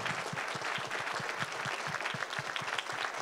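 An audience at a Canadian prime minister's town hall applauds with steady, moderately distant clapping that holds an even rhythm from start to finish.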